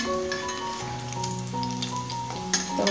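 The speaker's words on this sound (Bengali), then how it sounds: "আর এখানে হচ্ছে কুমড়ো ভাজা।" Pumpkin slices frying in oil, a steady close sizzle with faint tonal hum in the background, continuous and moderately quiet, no talking.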